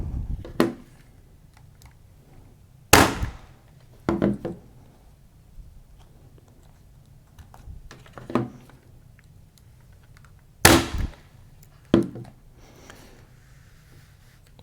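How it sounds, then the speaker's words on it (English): Staple gun driving staples through canvas into a wooden frame, a few sharp, close single snaps spaced seconds apart, with soft handling noise between them. "got the staple gun on there"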